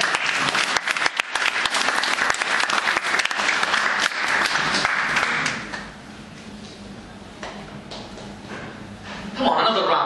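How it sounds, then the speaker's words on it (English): Audience at a spoken word poetry event applauding, dense close clapping that fades to scattered claps and a voice speaking, then swells briefly again at the end. "Come on, another round of applause."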